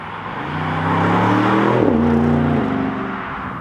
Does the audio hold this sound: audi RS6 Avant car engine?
yes